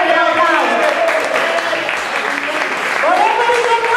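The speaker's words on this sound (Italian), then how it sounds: "facciamo un applauso" An audience at a public event in an Italian town square applauds steadily for several seconds, with voices and tonal sound mixed in beneath the clapping.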